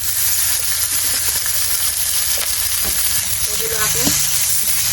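Onion and green chili sizzle in hot oil in a pan with eggs just fried, a steady close crackling hiss with small pops and occasional stirring scrapes throughout.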